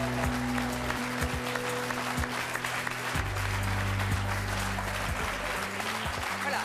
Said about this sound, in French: Je vous demande de les accueillir et de les applaudir très chaleureusement.